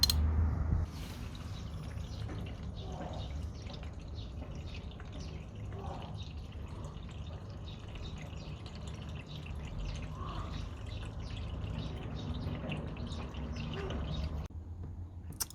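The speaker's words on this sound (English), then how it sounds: "So there we go, we're just going to loosen it up and let it drain." Transmission fluid drains from the drain plug of a Mercedes W210 E55 AMG with the 722.6 five-speed automatic, a faint continuous trickle and patter of liquid running steadily for several seconds, no talk.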